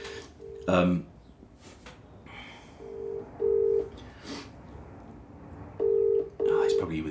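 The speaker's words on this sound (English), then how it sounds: "I'm just going to phone him, actually. Video call." WhatsApp video call ringing tone repeats in paired beeps with pauses between, fairly clear, while a person speaks softly between the rings.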